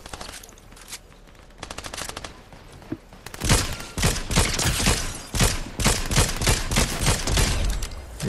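Gunfire in a video game: after a few quieter scattered shots, loud rapid automatic bursts break out and continue in a dense, sustained fusillade.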